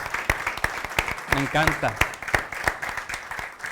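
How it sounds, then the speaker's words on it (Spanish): Audience clapping at a closing event, a steady run of sharp claps, fairly close, while someone speaks briefly over it. "Un aplauso a Jesús, gracias Jesús."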